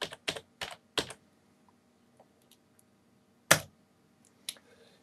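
Keys clack on a computer keyboard in a quiet room, a quick burst of four firm strokes followed by a pause, a few soft taps, and two more isolated keystrokes.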